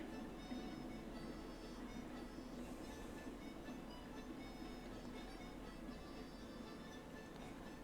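A train in Railroads Online rolls through a rail switch, heard as a faint, steady, distant rumble with a light metallic clatter and hum throughout.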